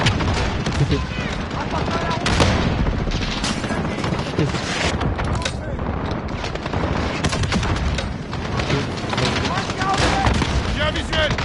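Dense, continuous gunfire from the video game Modern Warfare, loud and sustained throughout with overlapping bursts and booms, with voices audible in the mix.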